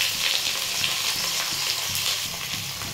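Chopped garlic and onion sizzle steadily in hot mustard oil for a begun bhorta, a dense crackling hiss with faint stirring knocks underneath and no voices.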